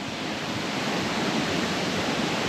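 Steady, dense rain hisses evenly throughout on a rainy outing in Fiji, a broad continuous wash with no voices.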